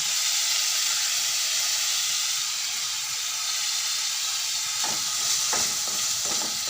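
Fresh mint leaves stirred in a hot pan give a steady, close sizzling hiss with a few soft scraping strokes of the spoon near the end, with no voices.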